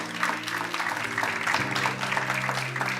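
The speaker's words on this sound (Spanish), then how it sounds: "Ese aplauso no fue para mí." A church congregation claps in a dense, continuous wash of applause of moderate loudness, with a sustained organ or keyboard chord droning underneath.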